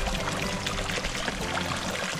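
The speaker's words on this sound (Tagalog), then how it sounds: "Kasi yung source ng ating tubig malakas na." Water gushes strongly from its source into a koi pond, a steady full-band rush of pouring flow that holds constant throughout without talk.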